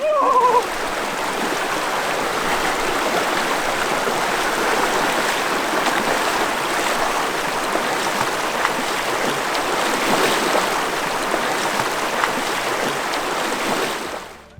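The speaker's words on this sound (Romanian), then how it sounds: "până la el a trebuit să trecem un pârâu cu apă rece ca gheața" An ice-cold mountain stream near Bláhnúkur in Iceland rushes and splashes steadily at close range, a loud continuous turbulent wash lasting throughout.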